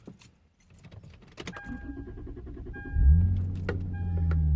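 A Lexus car with a newly installed battery: keys jangle and click in the ignition, a starter cranks, and the engine catches into a loud, steady idle close by.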